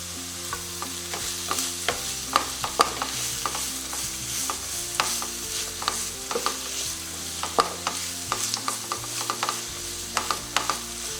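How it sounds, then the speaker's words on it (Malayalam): Sliced onions sautéing in oil with salt for egg biryani, a steady sizzle under repeated rhythmic scrapes and clicks of a spoon stirring in the pan, close and fairly loud, with no voices. "സവാള നന്നായിട്ട് വഴറ്റിയെടുത്ത് കഴിഞ്ഞു"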